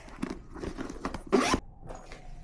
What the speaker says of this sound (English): Just zip it up.